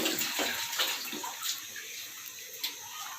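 Water runs steadily, as from a tap, while ingredients are rinsed in a home kitchen during dessert making, a broad hiss with small splashy bursts, close and without talk.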